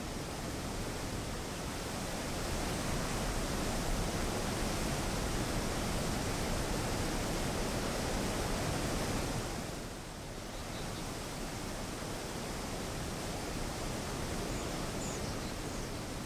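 River water rushing on its way to the sea in the Canadian wilderness, a dense continuous roar of broadband noise that dips briefly partway through, steady and enveloping, with no voices.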